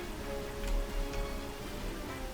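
Steady synthesized rain hissing in Pokémon White on Route 7, an even wash of patter at moderate, fairly quiet level with no voices.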